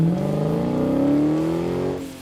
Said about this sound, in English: The new active exhaust might make you swear though